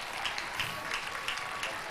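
Church congregation applauding for Jesus at a prayer gathering in Abuja, a dense, even wash of many hands clapping at once, steady and moderately distant, with no clear voices.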